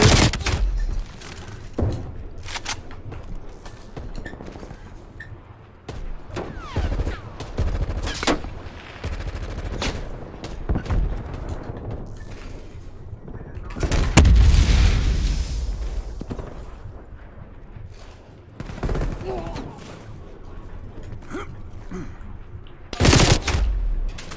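Multiplayer match in Call of Duty Black Ops Cold War, with scattered bursts and single gunshots at varying distances throughout, some sharp and close, others faint, plus a heavy boom in the middle.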